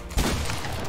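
Gunfire in the Fortnite Chapter 4 late-game arena mode: a short, sharp burst of several rapid shots starts suddenly and then trails into ringing game noise.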